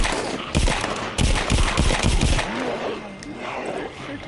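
Video game gunfire rattles off in loud, rapid bursts, heavy automatic volleys close up that give way to scattered, fainter shots and scraping noise.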